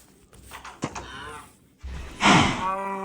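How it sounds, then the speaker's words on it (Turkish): Cows in the video game Minecraft moo a couple of times, a short low call first and then a louder, drawn-out moo near the end, with no talk over them. "Ben şu an inekleri sokuyorum oğlum içine."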